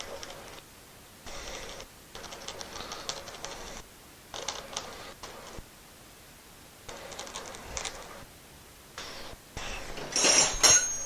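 A knife saws through material while cutting out shapes for flare nut wrenches, in short bursts of close, rasping strokes separated by pauses.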